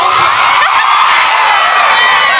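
A crowd cheers, whoops and shouts continuously at a loud, close level, a dense roar of voices with no clear breaks.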